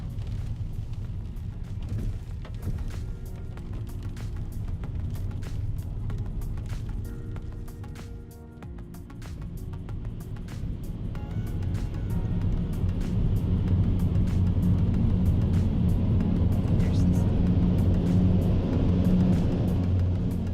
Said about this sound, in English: it's the jet turbine engines that are removing the exhaust to keep fresh air in the tunnel